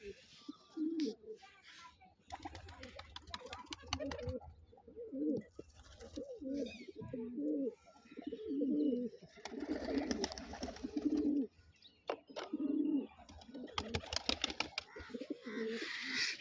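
Domestic pigeons coo repeatedly in low, throaty bursts while a bird sits on eggs in a loft in Rajasthan, close and clear, with brief rustles and some flutter between calls.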